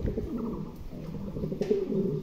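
A pair of Mundi pigeons coo in low, throaty rolling calls that run continuously and overlap at close range, set against a busy loft backdrop.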